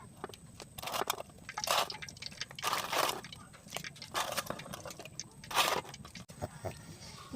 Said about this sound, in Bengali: মিষ্টিগুলো ভাজা শেষ, এবার আমরা শিরার ভিতর দিয়ে দিচ্ছি